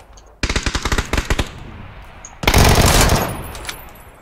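AK rifle gunfire in PUBG: a rapid automatic burst of sharp, loud shots, a short pause, then a second dense sustained burst that tails off.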